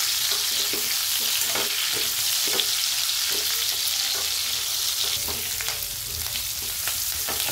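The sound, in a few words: stuffed bell peppers (capsicum) frying and being stirred in oil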